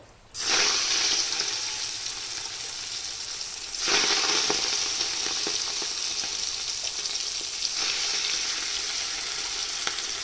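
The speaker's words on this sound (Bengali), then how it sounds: "তেলও আমার গরম হয়ে গেছে তো আমি মাছগুলো দিয়ে দেবো এক এক করে" Tengra fish fry in hot oil in a kadai with a steady hiss, and fresh bursts of sizzling flare up as more pieces go in one by one, close and fairly quiet, with no talking.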